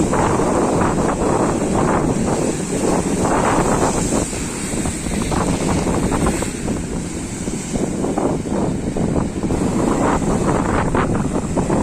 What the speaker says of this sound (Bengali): শঙ্করপুর সি বিচ থেকে তোমরা দেখছো সেই উত্তাল সমুদ্র